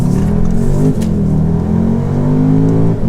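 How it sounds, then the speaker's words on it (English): A 2019 Audi SQ2 performance crossover engine revving on a light touch of the throttle, a loud close rising rev that dips and climbs again, no talk. "Now there, all I've done is touch the throttle."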